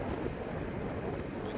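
Mountain wind on a hillside rushes steadily across the microphone, a loud, continuous low buffeting roar with no pauses.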